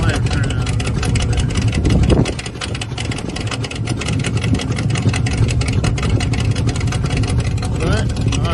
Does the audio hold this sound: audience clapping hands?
no